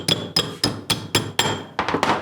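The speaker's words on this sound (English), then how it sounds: "You're going to hammer your ring size with the mallet." A mallet strikes a metal ring on a ring sizer during jewellery making, about eight sharp, evenly spaced hammer blows ringing out up close, the final few quicker and slightly duller.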